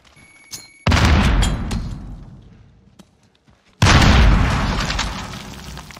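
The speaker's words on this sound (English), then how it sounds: "Grenade out!" Two loud, close grenade explosions in the Call of Duty Modern Warfare video game, each a sudden deep boom with a long rumbling decay, about three seconds apart.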